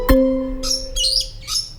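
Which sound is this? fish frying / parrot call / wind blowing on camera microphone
parrot call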